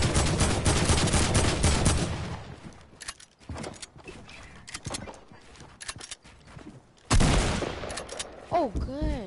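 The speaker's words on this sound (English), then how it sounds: "Shotgun." Gunfire in a first-person building shooter, a burst of loud rapid shots over the opening two seconds, then scattered single blasts and game effects, with another loud crack and ringing tones near the end.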